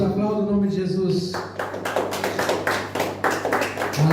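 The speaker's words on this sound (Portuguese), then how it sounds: "Aplauda o nome de Jesus." A church congregation claps along rhythmically during a worship service, a steady run of sharp hand claps mixed with music and voices.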